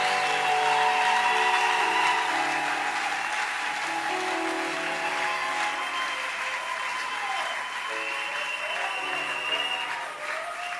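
A church congregation at a Friday worship service claps loudly. The steady applause stays dense and sustained throughout and tapers a little toward the end, with music tones and voices mixed in underneath.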